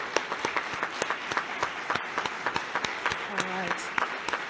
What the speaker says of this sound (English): please join me in a warm round of applause for the committee members